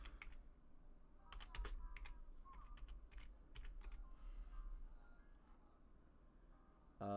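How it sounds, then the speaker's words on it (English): Fast, steady typing on a computer keyboard, close and fairly quiet, with dense clusters of key clicks running almost continuously, with no voices. "Let's type in Rondo's name and see what we got going on."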